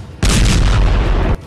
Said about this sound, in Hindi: जिसमें ज़पोरिज़िया के परमाणु प्लांट में हुए धमाके और धुएं को दिखाया गया है